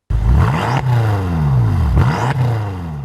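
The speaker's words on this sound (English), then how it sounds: "it's powered by Germany's finest twin-turbo V8 with 423 kilowatts and 680 Newton-metres of torque" A BMW M5 twin-turbo V8 accelerates hard and loud, its engine note climbing steadily through the gears with two quick dips and rises as it shifts, close and continuous with no talk.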